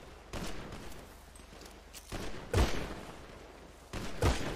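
Scattered gunfire in the game GTA, with several separate loud volleys of rapid shots and sharp impacts spaced a second or two apart over a quiet background.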